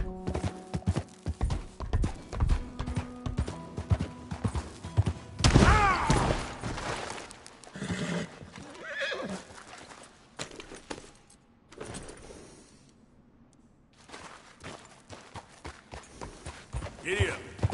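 A horse gallops with rapid hoof clip-clops and a brief neigh in a PS4 video game, mixed with game effects and a voice speaking over it, fairly steady and close.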